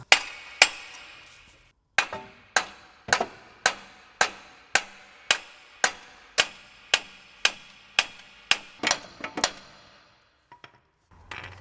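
Sharp hammer blows ring out against a stuck metal part, about fifteen evenly spaced metallic strikes with short ringing decay, then a few lighter taps and a brief rustle at the end.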